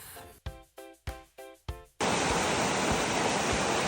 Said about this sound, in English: I love a good waterfall.